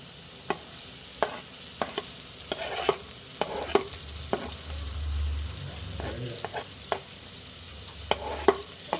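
Chopped onions fry in a pan for an egg pepper roast, a low steady sizzle broken by regular sharp clicks and scrapes of stirring, close and moderately loud with no talking.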